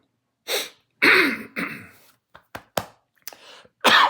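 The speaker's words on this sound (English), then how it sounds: "Excuse me. Dry cough, I'm sorry." Several dry coughs and throat clears in short bursts, close and fairly loud, with quick breaths between them.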